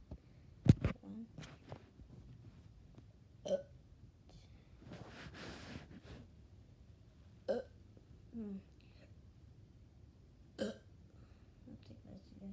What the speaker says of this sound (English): I'm gonna burp 9 times.